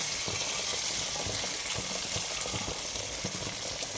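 Roasted coconut being stirred into jackfruit erissery in a pan with curry leaves, making a soft steady sizzle with scattered scraping and stirring taps close up, no talk.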